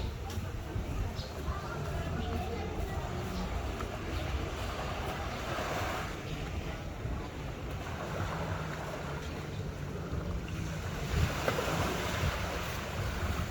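Ocean surf rolling in with the incoming tide, a steady broad wash of waves with wind buffeting the microphone throughout and no distinct breaks.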